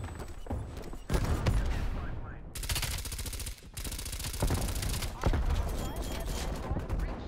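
An MP5 submachine gun in Call of Duty Cold War fires in rapid automatic bursts, loud and close, with several sustained strings of shots separated by brief pauses and occasional voice chatter underneath.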